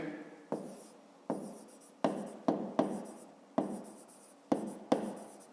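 A pen or chalk writes out an equation for a fifth-grade math exercise, a series of about nine short scratchy strokes, each sharp at the start and fading, with quiet pauses between.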